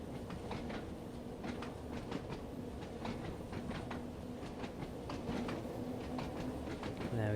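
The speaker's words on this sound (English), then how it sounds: "Train will continue to increase speed." A train in Train Sim World 2 picks up speed on the Isle of Wight line, with a steady clickety-clack of wheels over rail joints and a continuous rumble heard up close, with no talk.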